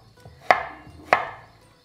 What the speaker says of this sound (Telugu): ఈ లోపల కందగడ్డని కట్ చేసుకుందాం.